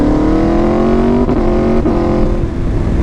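Aprilia RSV4 RF Ltd. Edition motorcycle engine holding a loud, steady close-up drone, with brief dips in pitch around the middle as it blips and settles again.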